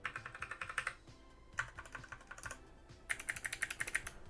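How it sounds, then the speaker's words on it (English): Bursts of rapid typing on a mechanical keyboard with brown switches, clicky, tactile keystrokes coming in three runs separated by brief pauses, close and clear. "I have a brown keyboard next to me as well, so you can hear that as well"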